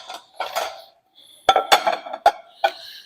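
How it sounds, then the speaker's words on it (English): A knife slices through a pandelino bread roll on a board, with soft sawing scrapes followed by several sharp clinks and taps of the blade against a plate or cutting surface. "I'm going to cut my pandelino in half again"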